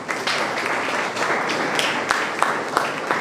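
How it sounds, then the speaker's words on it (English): Steady applause from an audience at a college National Sports Day celebration, welcoming the chief guest, with dense continuous clapping and a few sharper claps standing out. "Big round of applause for the chief guest of the day."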